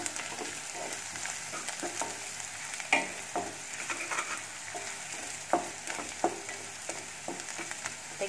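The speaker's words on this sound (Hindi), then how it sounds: "नमक और चीनी, ये सबको इसमें डाल देते हैं। डाल के अच्छे से मिक्स कर देंगे।" Potatoes with fenugreek and spices are stirred in a frying pan, giving a steady low sizzle broken by scraping strokes and a few sharper knocks of the spoon, with no talking.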